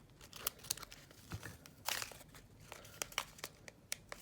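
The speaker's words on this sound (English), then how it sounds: "Let me see if I need to just do a little cut right up here at the top." Sealed plastic bead package being cut open with scissors, giving a run of crinkling, crunching plastic snips and rustles, close and fairly quiet, with no talking.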